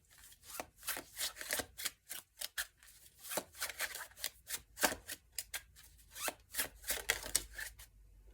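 Tarot cards are shuffled and drawn, giving a close, quiet run of crisp riffling and snapping bursts in uneven clusters, with no talking.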